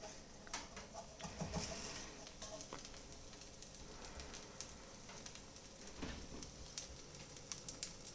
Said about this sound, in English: there's a lot of the butter sizzling